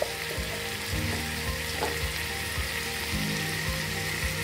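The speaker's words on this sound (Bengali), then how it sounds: "এবারে একটু ঘি আর গরম মশলা দিয়ে দেবো।" Potato curry sizzling and frying in ghee with garam masala, a steady close crackle with occasional stirring scrapes and no talk.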